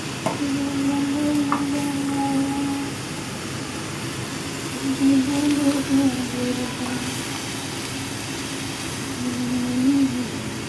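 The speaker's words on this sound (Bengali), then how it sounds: "ভাজি করতেছি" Vegetables sizzle steadily in a pan with a low, continuous frying hiss and faint stirring scrapes, at close range and with no talking.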